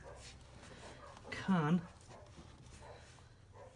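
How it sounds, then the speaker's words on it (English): A dog gives a short, whiny bark once, in the middle of ongoing speech, fairly close. "You can hear my dogs barking."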